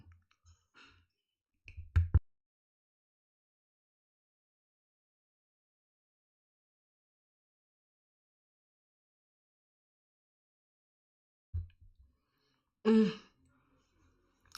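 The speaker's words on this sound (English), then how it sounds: "what kind of cough is this" Two short, separate bursts of coughing or throat clearing, one near the start and one near the end, with long silence between them.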